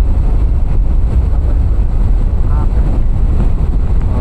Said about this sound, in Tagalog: Lakas. Lakas ng hangin.